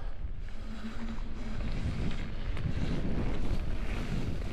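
Strong storm wind roars steadily through a video game scene, a dense broadband rush that swells slightly in the second half, loud and continuous with no one talking.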